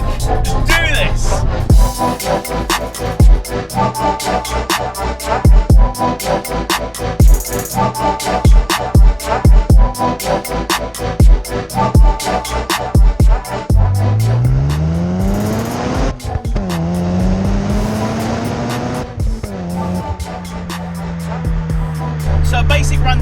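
A 1999 Mazda RX7 FD RS with a 5-speed and a twin-turbo 13B rotary pulls hard through the gears. Loud, buzzy revs climb and drop with each shift and settle to a steady drone at the end.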